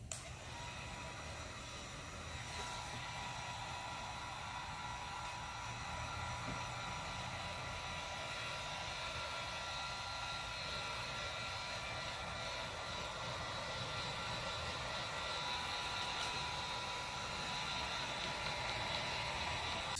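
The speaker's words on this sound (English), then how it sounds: "Just make sure when you're actually using the heat gun that you don't use the heat gun on top of any of the cracks" Heat gun warming a cold car windshield before a banner sticker goes on, a steady faint blowing whir running continuously with no talk.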